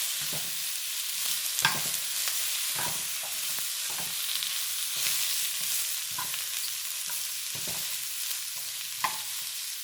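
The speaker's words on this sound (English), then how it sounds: "And lastly, we're gonna add 3 cups of broccoli. Stir them around a little bit." Three cups of broccoli stirred and frying in a hot pan for black pepper steak, a steady sizzle with scraping stir strokes recurring throughout, close and moderately loud, no talking.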